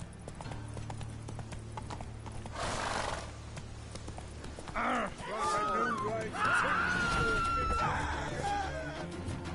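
Roach, the horse in The Witcher 3, gallops with rhythmic hoofbeats, snorting and whinnying amid game ambience, with a burst of noise early on and a voice speaking briefly over the action.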